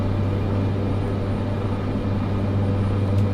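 Cessna 208 turboprop engine droning steadily during climb-out, a loud, continuous low hum with a strong tonal rumble heard from inside the aircraft.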